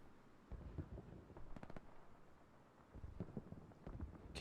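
Artillery rounds explode in a war video game, a scattered series of dull booms and crackling blasts at middling distance, rising in two louder bursts over a steady low rumble.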